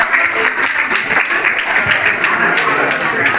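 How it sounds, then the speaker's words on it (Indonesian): A classroom of children claps together in loud, close applause, a dense and continuous burst with a few sharper individual claps standing out and faint voices underneath. "Tepuk tangan dong."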